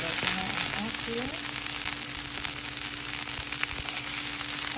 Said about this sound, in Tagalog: binisa ko ang aking sibuyas